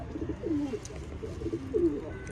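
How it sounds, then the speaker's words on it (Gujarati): Pigeons coo nearby in soft, throaty rolling calls, two clear phrases spaced apart over a quiet background hum. "બાકી આ બધા જોવો તમે કબૂતર"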